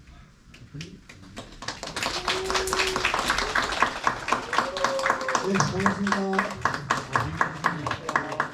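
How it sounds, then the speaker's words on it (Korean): An audience of high school students at an environmental concert in Hamyang claps to welcome a professor, the sharp, rapid applause building and then thinning while a voice speaks over it. "이번에 박수소리 받으니까 더 이렇게 설레네요"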